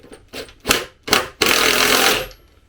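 A Bosch impact driver driving a screw into roof flashing, with a few short rattling bursts of hammering followed by a longer sustained impact run that tapers off, close and loud.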